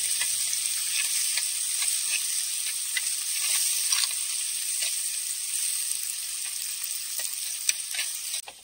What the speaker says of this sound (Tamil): தக்காளி வந்து வெந்துட்டு இருக்கு